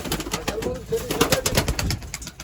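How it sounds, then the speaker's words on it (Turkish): Turtle doves cooing near pigeon lofts, soft repeated coos mixed with wing flutters and rustling, close and fairly loud, with faint human voices in the background. "Kumrular."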